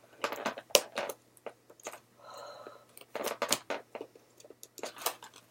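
Scissors snipping and crunching through stiff plastic doll packaging during a Project MC2 Ember Evergreen doll unboxing, a series of close, irregular cuts with a brief scraping stretch in the middle.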